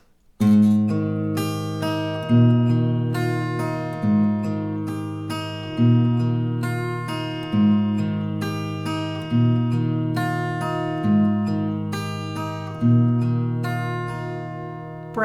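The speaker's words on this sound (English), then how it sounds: "you simply just alternate between these two chords, so it sounds like this" Acoustic guitar finger-picking for a song, steadily alternating between two chords in an even repeating pattern, close and clear with no voice.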